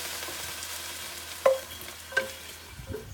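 Browned meat for a stew is dropped into a pot, giving a low background sizzle with a couple of sharp clunks and stirring sounds, close and fairly quiet.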